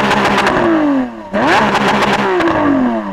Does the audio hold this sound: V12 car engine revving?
yes